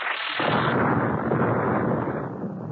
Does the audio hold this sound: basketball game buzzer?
no